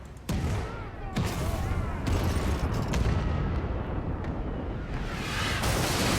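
Cannon and gunfire from a naval engagement in the video game Pillars of Eternity II: Deadfire, loud booming blasts and sharp reports at irregular intervals over a continuous rumbling barrage.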